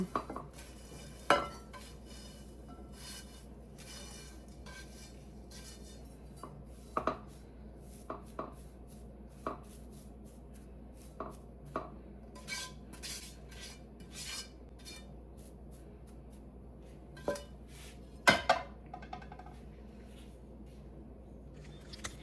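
Fried pheni, a Bengali Eid dessert, is lifted from the pan into a bowl: sporadic light clinks and taps of a utensil against cookware over quiet room noise, with no speech.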